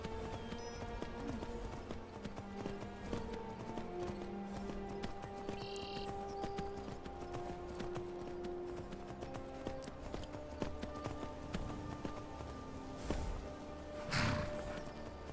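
Steady clip-clop of horse hooves at a quick trot in the video game Skyrim, continuous and close, with a layered game soundscape beneath and a brief swell near the end.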